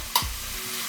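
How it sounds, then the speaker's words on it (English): Peppers drop into a hot frying pan of ackee and saltfish, giving a brief clatter followed by a soft, steady sizzle. "So let me just add the peppers"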